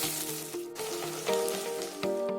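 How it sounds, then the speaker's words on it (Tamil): Onion with mustard seeds, fenugreek and curry leaves sautés in hot oil, a close crackling sizzle with small pops and bubbling throughout the short stretch, and no voices. "வெங்காயம், பூண்டு இது ரெண்டும் நல்லா வதங்கிருச்சு."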